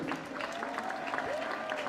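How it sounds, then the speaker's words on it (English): Applause for young swimmers at a swim meet finals session, a soft steady wash of clapping from a distant crowd in an echoing pool hall, with a faint tone drifting across it. "Let's have a nice round of applause to the 10 and under 50 back and all the breaststroke."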